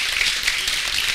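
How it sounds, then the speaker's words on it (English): Steady applause from a crowd at a community radio celebration in Seattle, a dense wash of clapping that holds at an even level throughout with no voices on top. "give them a round of applause"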